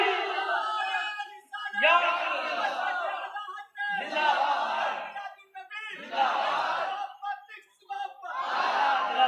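A large crowd at a religious gathering chants the takbir slogan in loud, repeated call-and-response bursts, a leader's shout answered each time by many voices, about four or five rounds in steady rhythm.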